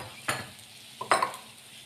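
Stuffed chillies sprinkled with leftover flour are stirred in a pan, giving two short scraping clinks of a utensil against the pan over a low sizzle, close up, with no speech.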